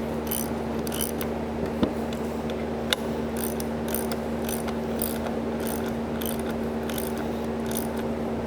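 A ratchet tightens bolts on the quick change gear box of a LeBlond lathe during reassembly, giving a steady, close run of light clicking bursts over a constant low hum, with no talk.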